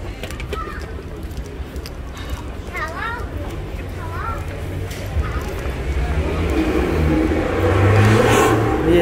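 Cars rev and roar along a busy Manchester street, and the engine noise swells louder near the end, with pigeons cooing and birds chirping through the constant traffic.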